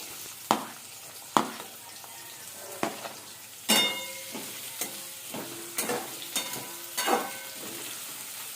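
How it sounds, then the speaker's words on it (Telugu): Onions and other vegetables tipped one by one into hot tempering oil for a mixed vegetable curry, each addition bringing a sharp crackle and sizzle, with stirring scrapes in between and a steady frying hiss underneath. "తిరుగుమాత తర్వాత ఒక్కొక్క ఐటము ఉల్లిపాయ వేస్తున్నాను లోపలికి"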